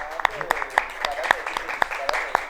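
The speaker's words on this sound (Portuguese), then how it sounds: "Uma salva de palmas, né, pra gente." A small group claps sparsely and unevenly, celebrating a podcast's win as best in the city. The claps are scattered over voices talking close by.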